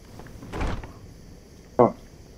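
A fridge door opening in the DayZ video game: a soft muffled thud followed a moment later by a short, sharper click or creak, both close and alone.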